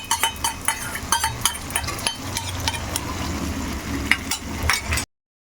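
Mutton sizzles steadily in a pan as sour yogurt is added. The hiss is close and continuous, broken by occasional light clinks of a spoon against the pan.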